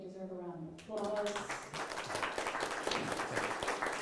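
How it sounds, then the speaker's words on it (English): At a district town hall meeting on a proposed referendum, a brief voice gives way to a room of people clapping for the staff, steady, moderately loud applause that continues to the end. "I think they deserve a round of applause."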